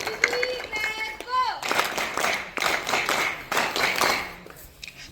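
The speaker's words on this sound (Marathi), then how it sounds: "त्यांच्यासाठी आपण इथं जोरदार टाळ्या वाजवूया." Audience clapping for debate contestants at a state-level competition, bursts of hand claps mixed with a speaker's voice and some high whistling tones at the start.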